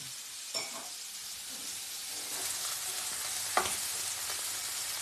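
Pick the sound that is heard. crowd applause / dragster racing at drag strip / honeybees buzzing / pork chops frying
pork chops frying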